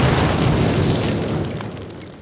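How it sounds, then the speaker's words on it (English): An explosive charge detonates against a cinder block wall in the Call of Duty video game, a loud booming blast that fills the clip and slowly fades over two seconds. "Place your explosives on the cinder block wall."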